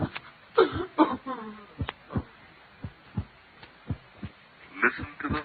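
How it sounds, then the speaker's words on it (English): A heartbeat sound effect in a radio drama of The Tell-Tale Heart, irregular dull thumps spaced out over the stretch, with some vocal breaths or murmurs mixed in near the start and end. "Listen to the heart beat its last beat."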